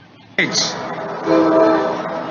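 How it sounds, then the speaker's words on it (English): A commuter train roars past as its horn blares suddenly and loudly, followed by the heavy rumble of the rail cars. "And here comes the train"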